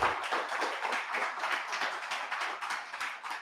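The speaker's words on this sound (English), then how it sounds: "Let us give a hand of applause yet again to Dr. Kerry Hall." A lecture audience applauds Dr. Kerry Hall, a steady spatter of many hands clapping at moderate level throughout, with no voices over it.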